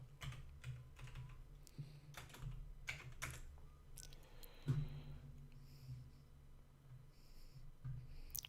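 Quick, uneven keystrokes clatter on a computer keyboard, close and fairly quiet, with a low steady hum underneath and no talking.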